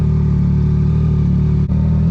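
A 2023 Yamaha MT-09 fitted with a Dominator HP3 exhaust cruises with a loud, steady engine drone, broken by one brief dip like a quick gear change before it resumes.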